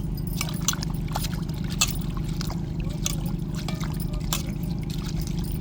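Dried fish being rinsed in water by hand: continuous close sloshing and trickling of water with small splashes and clinks, steady throughout over a low background hum.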